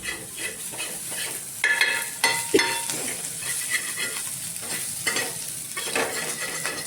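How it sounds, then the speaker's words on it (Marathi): Prawns fry in oil on a pan that tends to stick, with a steady close sizzle and repeated scraping stirs of a spatula coming through in bursts. "कोलंबी बरोबर शिजणार त्याच्यामध्ये"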